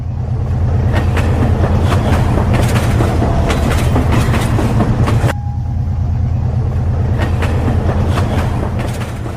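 A train rumbles loudly along the Central Railway line to Kigoma, Tanzania, with a rhythmic clatter of wheels on rail joints, steady and close throughout.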